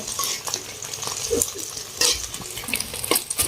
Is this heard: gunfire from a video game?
no